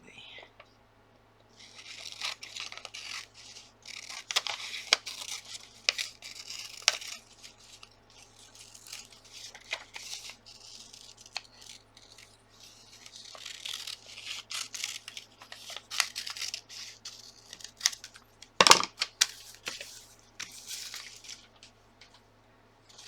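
Scissors cut through paper for a gluebook with a run of close, crisp snips and rustling slices, some quick and clustered and others spaced apart, over a faint steady hum.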